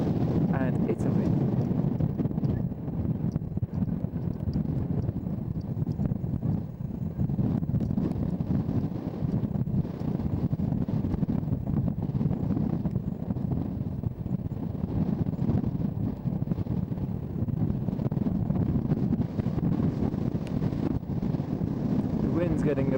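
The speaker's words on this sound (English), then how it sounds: "The wind's getting a bit strong." Strong wind buffets the microphone high in the Austrian Alps near Obergurgl, close to the Italian border, a constant heavy rushing roar throughout with someone talking under it.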